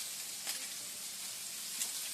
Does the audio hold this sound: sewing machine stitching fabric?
no